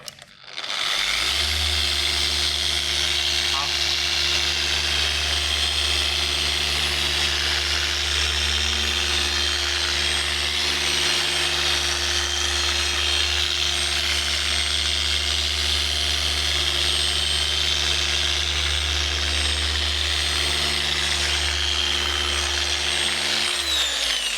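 Machine polisher buffing car paint, running steadily and loud at close range with a constant motor hum and whine for the whole stretch, no talking.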